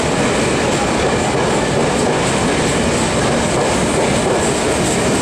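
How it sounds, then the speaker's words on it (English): A train pulling out of a station early in the morning at Bharatpur, a loud, continuous rumble of rolling wheels and rail noise close by that holds steady with no break or voices. "And here's our train. Just leaving now"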